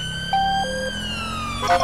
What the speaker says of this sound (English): We've got our old school siren on us course